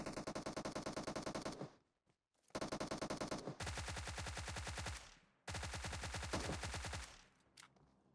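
Rapid automatic gunfire in the mobile battle royale game PUBG Mobile, long dense bursts of fast, loud, evenly spaced shots broken by brief pauses, with a few scattered single cracks trailing at the end.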